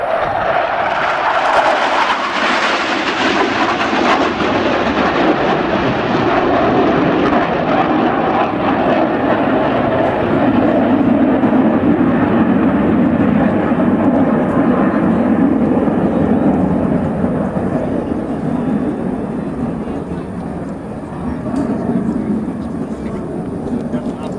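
A Lockheed F-104 Starfighter's roar swells and passes overhead at over 500 mph at an airshow, a loud, sustained rush that slowly fades, with an announcer's voice over a loudspeaker underneath.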